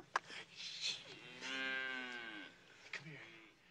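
A cow in a pasture at night gives a single long, drawn-out moo, faint and slightly distant, with a few soft clicks and rustles around it.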